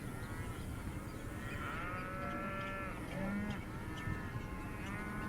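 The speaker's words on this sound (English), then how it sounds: "Cows responding in a really nice, quiet, controlled manner." Cattle being herded slowly by an ATV, with a low, drawn-out moo and bleating calls over a constant engine drone and rumbling ground noise for several seconds.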